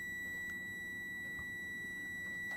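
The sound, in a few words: multimeter continuity test beep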